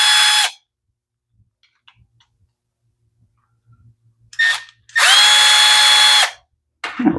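Power drill backing screws out of an Echo SRM210 trimmer, with a short whir, a pause with faint clicks of parts, a quick burst, then a long steady close whine and another brief start.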